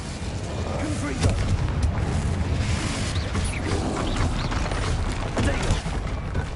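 Fiery Confringo spell explosions in Hogwarts Legacy, a dense, continuous barrage of booms and crackling blasts, loud and close, overlapping with other combat spell effects and no pauses.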